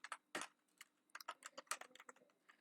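Light computer keyboard keys tapped in short, quick bursts as a folder name is typed, close and clear with brief pauses between strokes.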